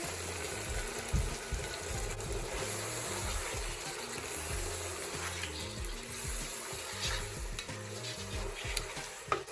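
Chicken cooking with yogurt in a pan gives a continuous, close sizzling and bubbling, with frequent stirring scrapes and soft knocks of a spoon, all steady and fairly loud with no voices.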